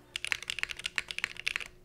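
Quick run of crisp clacks from a mechanical keyboard with a modded spacebar switch on a Cycle 8 board, about twenty fast presses heard close and clean with no talk.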